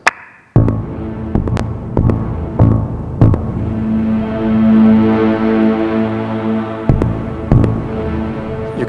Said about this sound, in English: what I'm getting is a reading of my heartbeat, which I'm making into MIDI